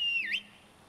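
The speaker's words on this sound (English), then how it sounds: "Horse whistle, that's the one." In the video game Skyrim, a horse whistle calls a horse: a single short, clear whistle that dips in pitch and then quickly rises before cutting off, heard alone and close.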